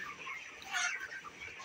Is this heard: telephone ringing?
no